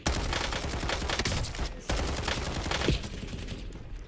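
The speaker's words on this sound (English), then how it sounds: "I got sniped." Gunfire in Call of Duty Warzone, a dense loud burst of shots filling the opening seconds, a brief break, then more rattling fire and thuds that fade toward the end.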